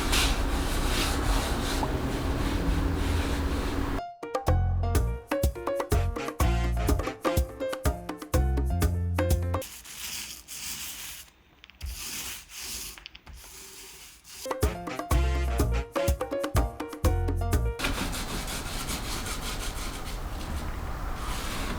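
A sander runs over a painted wooden dresser in a thrifted furniture makeover with a continuous abrasive rubbing hiss, broken by stretches of rapid back-and-forth scratchy strokes and a quieter pause in the middle.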